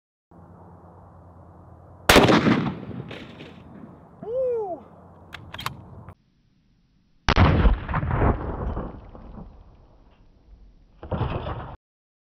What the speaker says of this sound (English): I'm just gonna go hog wild with an AR-15 with a regular ball ammunition and just bang, bang, bang, bang, bang until it pushes through